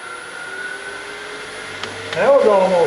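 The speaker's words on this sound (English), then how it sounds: "All right, I got a sharp round cutter now." A sharp round cutter on a rotary tool carves deer antler for a bowl: a steady high whine that jumps louder and rougher near the end as the bit bites into the antler.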